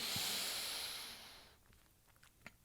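A person exhales steadily during a postpartum breathing exercise, a soft breathy hiss that fades out over about a second and a half, followed by quiet room sound with a few faint clicks.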